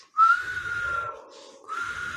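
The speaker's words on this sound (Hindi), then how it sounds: "लॉन्ग ब्लास्ट दोगे, लॉन्ग ब्लास्ट, लंबी सीटी मारोगे" A long whistle blast given as the signal that an enemy aircraft has departed, in NCC field craft battle drill; one sustained shrill tone, loud and close, dipping briefly before resuming, with no talk.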